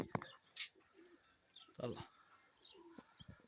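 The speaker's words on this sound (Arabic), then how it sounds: "طبعا باقي الحمام وين تلعب قاعده فوق" Pigeons coo and chirp softly in a loft, a few faint calls scattered among quiet background noise, with a person briefly speaking nearby.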